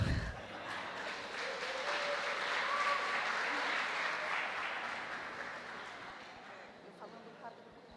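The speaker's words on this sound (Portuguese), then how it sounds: "Mais uma vez, uma salva de palmas para a nossa palestrante." Audience applause at an education seminar on gender diversity, steady crowd clapping sustained across the room, broad and even, gradually tapering toward the end.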